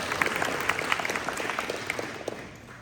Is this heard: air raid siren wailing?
no